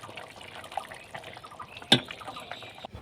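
Ground paste being stirred into a bitter vegetable curry made with several bitter ingredients: soft, faint wet sloshing and trickling of the gravy, with one sharp clink of a utensil near the end.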